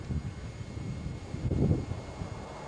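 Gusty wind on a cold spring day in a mountain valley as a storm front passes, low rumbling buffeting that swells briefly midway, close to the microphone.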